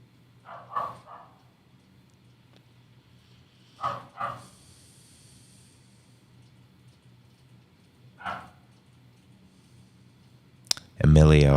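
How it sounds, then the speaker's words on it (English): A neighbor's dog barks somewhere off in the distance in three short bursts of one or two barks. The barks are faint and picked up by a nearby microphone, and a loud clatter comes at the end. "I'm sure you can hear the neighbor's dog picking up in the mic."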